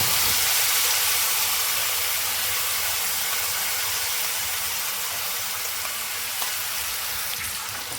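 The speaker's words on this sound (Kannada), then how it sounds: "ಇದಿಷ್ಟು ಸ್ವಲ್ಪ ಫ್ರೈ ಆಗಲಿ. ಈಗ ನಾವು ಇದನ್ನು ಮಸಾಲೆ ಸೇರಿಸೋಣ." Masala sizzles and fries steadily in a pan for a home-style fish curry, a continuous close hiss and crackle with no talking.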